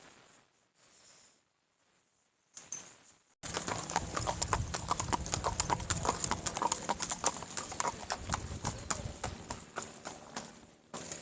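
Horses and a pack mule on a riding trek walk along. A near-silent start gives way to loud, close, steady hoof clip-clops that keep an uneven rhythm from several animals.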